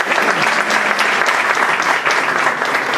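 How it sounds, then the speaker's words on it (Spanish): Audience applause at a university socio-legal research conference, welcoming a researcher to the podium: dense, steady clapping from a crowd, fairly close and loud throughout, with no pause. "por favor un fuerte aplauso"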